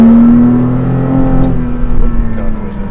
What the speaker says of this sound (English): Really build up the revs. Sounds pretty crazy.